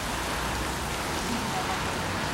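Steady rain falls in a dense, even hiss during a washed-out outdoor torchlight procession in Lancashire, close and constant, with faint talk underneath.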